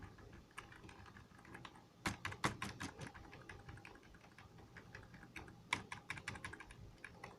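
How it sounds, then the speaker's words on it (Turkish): Keys on a computer keyboard tapped again and again at boot on an MSI motherboard PC, faint and close, in quick irregular clusters with a few sharper presses. "ben BIOS tuşum del tuşu olduğu için açana kadar basıyorum"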